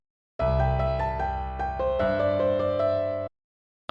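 A short major-sounding musical phrase from the first Concord dataset plays alone, a bright sustained tone with several note changes over about three seconds, then cuts off cleanly into silence.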